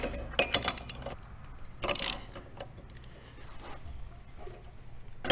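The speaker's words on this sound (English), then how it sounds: "Give that a good tightening to hold it in place." A ratchet snugs the flywheel nut on a Mega Moto 212 engine, giving short bursts of close metallic clicking separated by quieter gaps.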